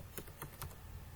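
Keys clack on a computer keyboard in a quick run of separate taps, close and fairly soft, with no talking.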